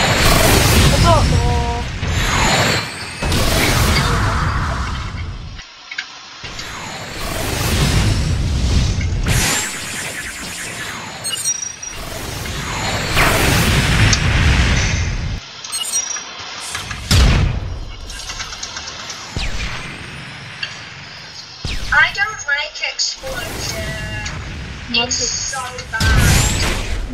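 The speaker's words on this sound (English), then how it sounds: "Explosion." Explosions from the Roblox game My Hero Mania, a dense run of loud, repeated booming blasts and bursts filling most of the stretch, with brief gaps, while voices talk over them.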